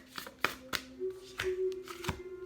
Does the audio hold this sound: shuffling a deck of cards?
yes